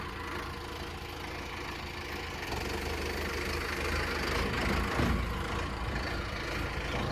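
A tractor's diesel engine idles nearby at a village river-embankment earthwork site with a steady low chugging rumble that grows slightly louder partway through; no talking.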